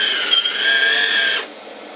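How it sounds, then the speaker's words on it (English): The drive roller of a MIG welder's wire feed turns with a steady motor whine and hum, close and fairly loud, then stops abruptly near the end. "when you pull that button, this will start turning"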